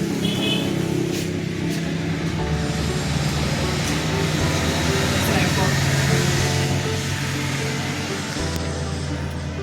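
A coil winding machine's motor runs with a steady, fairly loud mechanical hum and whir, its low tone shifting audibly near the end as the winding continues.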